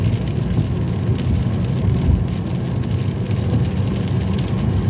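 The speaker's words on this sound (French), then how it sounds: "Qu'est-ce que ça pleut." Rain falls steadily on a car while it is driving, a continuous hiss and patter blended with low road and engine rumble, even and moderately loud throughout, with no talking.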